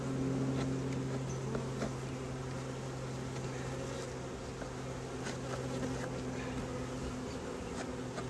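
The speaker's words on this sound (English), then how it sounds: "I'm going to go ahead and knock these bees down in." Honeybees hum during a hive inspection in February: a faint, steady, continuous buzz with no talking.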